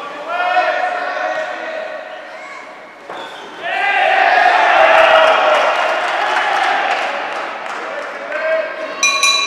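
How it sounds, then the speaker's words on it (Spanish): A crowd applauds and cheers at the close of the first round of the Rodrigo Huina vs Andres Leal fight, a loud swell of clapping and noise that builds midway while an announcer talks over it. "Fuerte aplauso con el tremendo combate."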